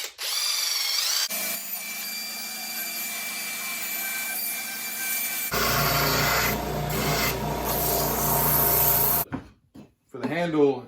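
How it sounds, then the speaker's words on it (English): A power drill bores a hole in wood while building stackable camper leveling blocks, with a steady whine that shifts pitch and load midway, then a few brief bursts as it stops. "Next, we'll drill the hole out."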